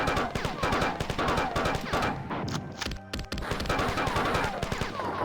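Rapid assault rifle fire from Bungie's Marathon video game, loud and continuous automatic bursts with a brief pause midway before the shooting resumes.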